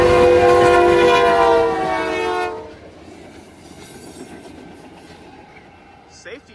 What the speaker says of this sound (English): It's an inspection train.